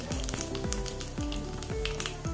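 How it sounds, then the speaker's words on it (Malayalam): Mustard seeds and cumin frying in a tablespoon of hot oil, a steady close sizzle with scattered sharp pops and crackles throughout, no voices. "ഒരു ടേബിൾ സ്പൂൺ ഓയിൽ ഒഴിച്ച് കൊടുത്ത് അര ടീസ്പൂൺ കടുക് ഇട്ട് കൊടുത്ത് കാൽ ടീസ്പൂൺ ജീരകം കൂടി ചേർത്ത്"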